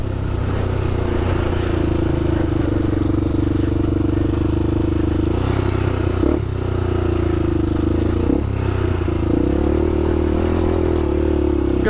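2007 Honda 400ex quad ridden along trails, a steady close engine drone with a few brief throttle shifts and bumps over rough ground, continuous and fairly loud, with wind noise.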